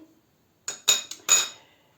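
A metal spoon stirs flour with baking powder and salt in a bowl for potato crepes, making a few quick, bright clinks against the bowl in short bursts after a near-silent start.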